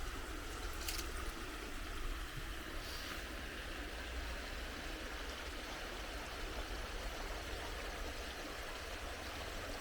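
Water ripples over stones in a steady, faint wash of trickling that goes on without a break, with no voices.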